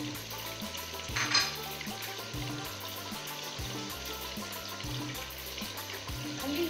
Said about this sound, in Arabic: خليه يتقلى ان شاء الله يتقلى